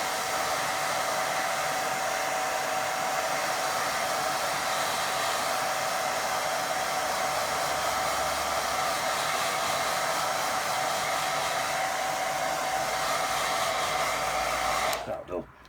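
Hair dryer blowing over a watercolour painting, a loud, steady, close-up whir with a constant tone that runs unbroken for about fifteen seconds before cutting off at the end.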